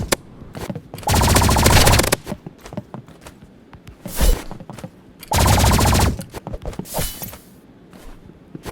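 Energy pistols firing in the shooter game Rivals, two sustained buzzing bursts of rapid shots about a second long each, loud and close, with scattered single pops and thuds between them.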